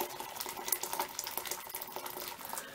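Boiling water being poured into a mixing bowl for homemade play dough, a soft, steady splashing stream heard fairly close and faint.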